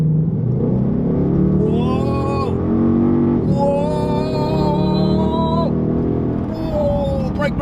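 The 420 bhp V8 of a 2017 Ford Mustang GT revs up hard and accelerates close by on a road, with rising pitch through the gears and a brief dip between pulls, loud and throaty.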